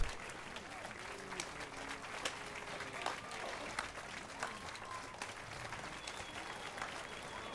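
Crowd applause at a festival gathering in The Witcher 3 video game, a steady wash of clapping that lasts throughout at moderate loudness with scattered sharper claps and no talk.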